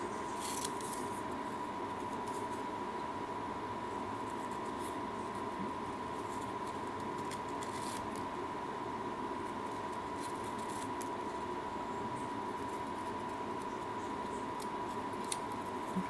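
Small EK Success scissors snip paper for fussy cutting, a steady run of soft crisp clicks and rustles over a constant background hum.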